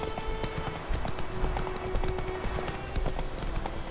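Horse hooves clip-clop in a fast, steady galloping rhythm in The Witcher 3 video game, close and continuous across the whole stretch with no talk over it.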